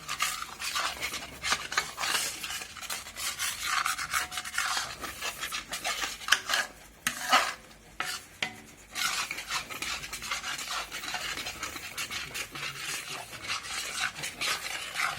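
Spoon scraping and stirring makhani gravy in a pan, a quiet continuous rasping and scraping with irregular strokes, close and fairly faint, no voices.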